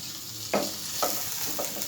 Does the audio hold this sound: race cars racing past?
no